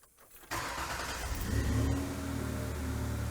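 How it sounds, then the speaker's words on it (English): A car engine cranks and catches after a brief quiet moment, then settles into a steady, loud idle close by, started during a charging-system voltage check. "Now I'll start the engine and take a look at my reading."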